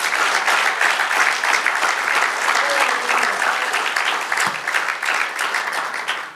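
A church congregation applauds during a pastor's sermon, a thick continuous roar of clapping held loud and even for several seconds, with a faint voice briefly showing through.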